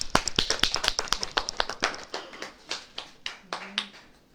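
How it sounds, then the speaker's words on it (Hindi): Rhythmic hand claps in a church gathering, a brisk run of sharp, evenly spaced claps that slows and thins toward the end, fairly close and with no talking over them. "ताली बजाओ।"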